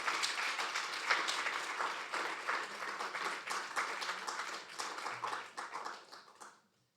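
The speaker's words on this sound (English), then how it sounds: "can we please have a round of applause?" A crowd at a Franco-Indian law and business forum applauds steadily for several seconds, dense clapping that fades out at the end.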